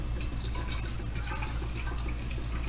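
Water runs steadily into an emptied can of pulled pork, a close, continuous gurgling fill with a hollow resonant tone and no pauses.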